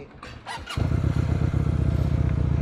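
A Napoleon Bob 250 motorcycle engine catches after a short start attempt and settles into a loud, steady, close-up idle with a throbbing rhythm.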